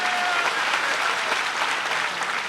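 Dense crowd applause at a Bahujan political rally in Nagina, steady and loud throughout as many hands clap together without a break.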